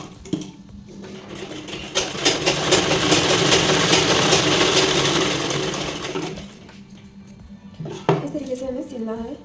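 A sewing machine runs a long stitching burst on a four-tuck belt blouse, a loud rapid whirring that starts, holds for several seconds and stops, with light clinks before and after and a voice speaking near the end.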